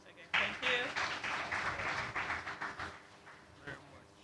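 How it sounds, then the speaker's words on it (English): A conference audience applauds with a sudden burst of clapping that gradually thins and fades, with a voice speaking over it. "A round of applause once again."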